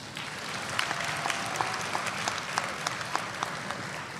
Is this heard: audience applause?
yes